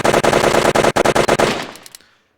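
Automatic fire from a video game weapon, a close, loud stream of rapid evenly spaced shots with a couple of short gaps, ending in a trailing echo that fades to silence.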